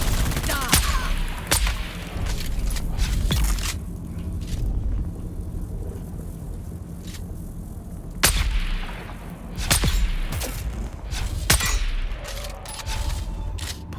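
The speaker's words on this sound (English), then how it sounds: "And a grenade!" Grenade explosions and bursts of gunfire in the Dune desert game Arrakis, with repeated sharp loud blasts and booms scattered over a dense, continuous battle rumble, close and intense throughout.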